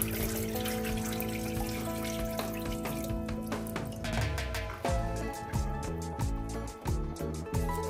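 Water draining and trickling from freshly washed wheat grains, a steady continuous pour with splashing and dripping that shifts and thickens partway through, close and fairly loud.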